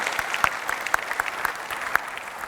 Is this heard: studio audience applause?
yes